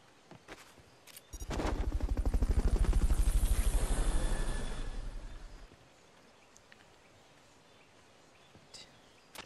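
A helicopter's rapid rotor thumping from the video game Metal Gear Solid Peace Walker swells up loudly, holds for a few seconds, then fades away, with a few sharp clicks around it.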